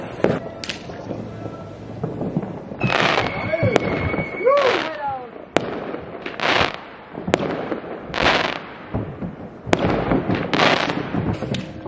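Loud New Year's fireworks and firecrackers bang repeatedly outside in an irregular burst of sharp cracks and booming blasts, some with whistling rockets, while people talk and call out over the noise.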